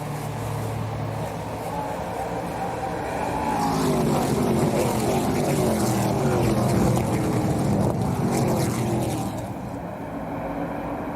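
ARCA Menards Series stock cars race under green at Iowa Speedway, their engines building to a loud roaring pass of several cars with rising and falling pitch, then fading, under commentary.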